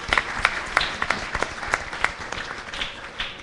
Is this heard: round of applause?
yes